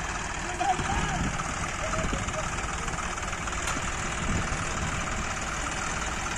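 A steady tractor engine idling, from a Powertrac Euro 50 Plus and a John Deere 5210, both new, a continuous mid-pitched rumble with no breaks, moderately loud and unchanging throughout.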